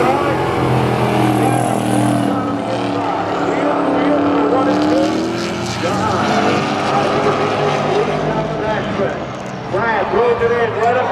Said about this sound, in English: People bring in their own cars and race around the track